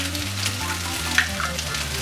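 Eggs frying in a pan alongside cooked chorizo sausage, a steady close sizzle and crackle running throughout with a few brief spatters, no voices.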